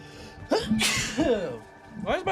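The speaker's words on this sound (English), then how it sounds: "I have sneezed." A single sharp sneeze bursts out close to the microphone during a video game playthrough, surrounded by muffled vocal sounds and a voice.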